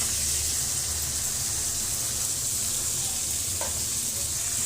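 Curry set to cook in a hot pan after fish frying sizzles loudly and continuously at close range, a dense hiss with no pause.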